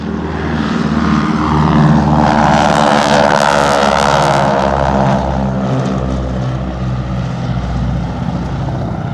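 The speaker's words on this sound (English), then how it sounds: "It's the Barbie, a Barbie plane. Only it's real and it's a bomber." Propeller-driven bomber aircraft at an air show, its engines droning loud and steady with a rich, harmonic throb that swells around the middle and holds for the whole stretch, with no talk over it.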